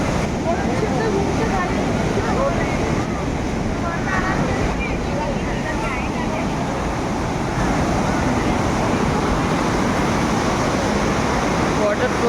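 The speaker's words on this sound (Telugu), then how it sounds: "వాటర్ ఫ్లో చూడండి ఎలా వస్తుందో" A river rushes under a bridge near Manikaran, a loud, continuous roar of churning water mixed with wind buffeting the microphone, steady for the whole stretch.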